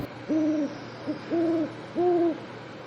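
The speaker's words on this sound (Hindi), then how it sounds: "उल्लू ने घुघुआते हुए कहा।" An owl in an animated fable gives three clear, steady hoots at an even pace, each a smooth sustained tone with a short pause between, heard close and alone.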